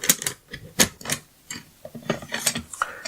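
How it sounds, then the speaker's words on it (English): Metallic clicks and sliding scrapes come in a rapid, uneven series as the bolt carrier group is pulled out of an M16 rifle. The sharp mechanical snaps are close and clear, with short pauses between them. "we pull the bolt carrier group out"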